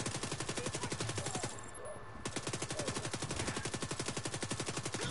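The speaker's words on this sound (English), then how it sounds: "Trying to shoot the fucking shotgun that I got earlier." Repeated shotgun-style gunfire from a video game, a fast steady rhythm of loud close shots broken by a brief pause, then resuming.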